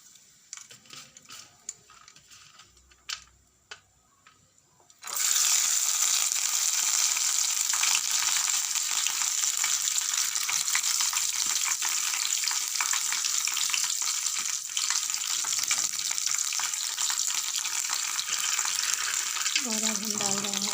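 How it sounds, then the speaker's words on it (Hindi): Dry fruits hit a hot pan and burst into a loud, steady sizzle of frying and roasting, following a few seconds of quiet handling clicks, continuing with light stirring until a voice speaks near the end. "अब इसमें हम ये जो ड्राई फ्रूट्स हैं इन्हें हम फ्राई कर लेंगे, भून लेंगे।"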